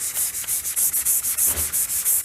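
Steady back-and-forth hand sanding of a Porsche body panel coated in epoxy primer, using 240-grit sandpaper, with about a dozen quick, even rasping strokes close up and no voices.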